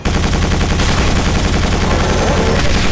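Rapid gunfire in Quake 4, a loud continuous machine-gun stream of close shots with steady pulsing rhythm filling the whole stretch.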